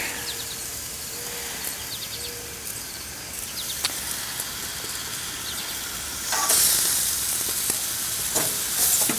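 Vegetable skewers packed tightly with peppers sizzle steadily on a grill, a constant bright hiss with occasional pops and clicks that swells louder in the final few seconds.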